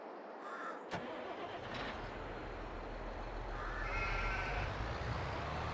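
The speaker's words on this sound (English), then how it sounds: "So I'm gonna grab this tractor here." Tractor engine in Farming Simulator 22 starting with a sharp click, then settling into a steady low idle rumble that slowly swells, with faint animal bleats in the background.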